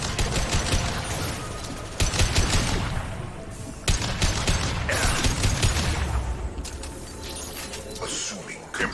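Weapons fire in Mass Effect as a dense fusillade of rapid shots and mechanical clatter, steady and loud throughout, broken by several sharp, heavier blasts.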